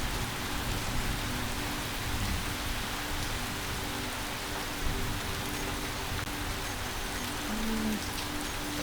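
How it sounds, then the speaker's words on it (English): Heavy rain falls in the video game Space Engineers, a dense, steady hiss of downpour filling the whole scene, constant and fairly loud, with no talking. "It's a lot of rain."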